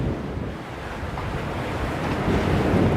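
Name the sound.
choppy ocean waves and wind in a storm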